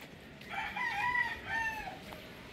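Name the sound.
chickens and rooster crowing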